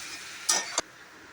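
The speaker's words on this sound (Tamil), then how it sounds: "நல்லா மசாலாலாம் எண்ணெயில் ஃப்ரை ஆகிடுச்சு." Spices such as turmeric and cumin powder frying in hot oil for a mutton spleen gravy, with a steady sizzle and two quick stirring scrapes of a spoon in the pan.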